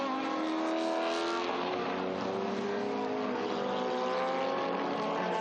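Historic 2-litre Lola racing cars, including a Lola T298, roar past in a tight pack at Estoril, a loud sustained engine howl with overlapping pitches that swell and shift as they go by.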